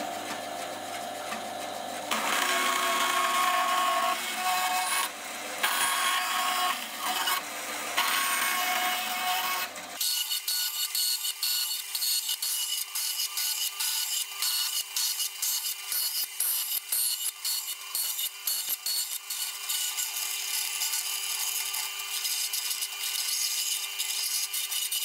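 A saw blade cuts through a pipe after the fence has been set a millimetre closer to the blade, a continuous loud grinding rasp that runs unbroken, with the motor's pitch shifting partway through.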